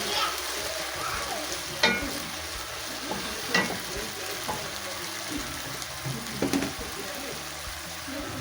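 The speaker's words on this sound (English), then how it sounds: "I love using this pan Mix it well like this." Vegetables stirred in a pan for a traditional African jute mallow and cowpea leaf dish, with soft sizzling under occasional scraping clinks of a utensil against the pan, fairly quiet and close, accompanied by faint background noise.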